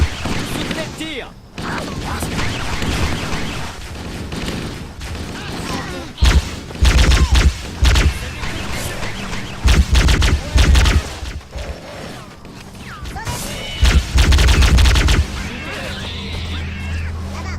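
Heavy booming cannon blasts and gunfire erupt in bursts amid combat in Halo: Combat Evolved, with voices shouting over the chaos.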